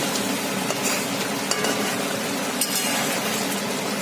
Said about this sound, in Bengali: ভালো করে ফুটে গেছে